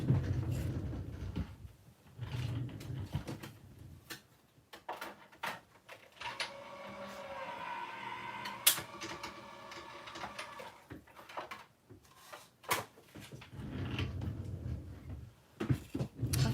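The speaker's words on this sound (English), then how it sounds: "I have Tim Holtz's Vagabond electric machine sitting over here" A Tim Holtz Vagabond electric die-cutting machine runs with a low mechanical hum and grinding rollers through the middle stretch, framed by clunks, taps and handling noises before and after, close and moderately quiet.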